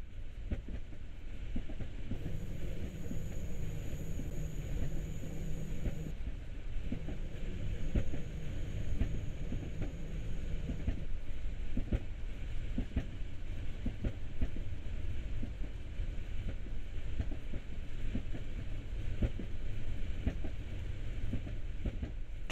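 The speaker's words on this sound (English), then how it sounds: "You're currently riding a BR422 electric multiple unit." Interior ride sound of a BR422 electric multiple unit S-Bahn train in Train Sim World, Rhein Ruhr area: a steady low rolling rumble with rhythmic track clicks and a brief high electric whine early on, without talk.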